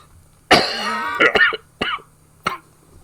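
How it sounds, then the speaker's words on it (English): A few harsh coughs and throat-clearing bursts close up, starting with a longer hacking cough followed by shorter separate coughs. "I've been coughing quite a bit lately."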